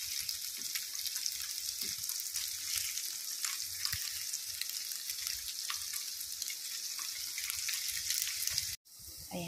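Pork fries in a pan until golden brown, a dense, steady sizzle close to the pan with faint crackles throughout, broken by a brief dropout near the end.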